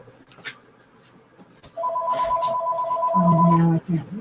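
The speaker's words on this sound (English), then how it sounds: "My phone is ringing." A phone that was left charging rings with a repeating electronic tone, a steady pulsed pattern near the microphone, while a person talks over it.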